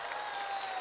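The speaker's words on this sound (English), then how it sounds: "Let's give them a big round of applause." Applause rises from the audience at a Juice Plus conference in Birmingham, a brief, fairly faint wash of many clapping hands, steady throughout the short burst.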